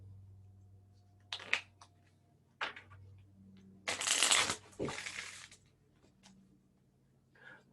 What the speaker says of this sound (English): I'm going to release pressure from my fingers and the cards will shuffle downwards